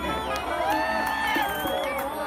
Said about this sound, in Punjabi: ਇੱਕ ਵਾਰੀ ਖਿੱਚ ਕੇ ਤਾੜੀਆਂ ਲਾ ਦੋ